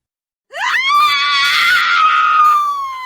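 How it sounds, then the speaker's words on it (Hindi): A woman's loud, sustained scream from an animated village horror story bursts in suddenly, then holds at a high, piercing pitch for about two and a half seconds with no other sound. "मुंह से चीख निकल गई"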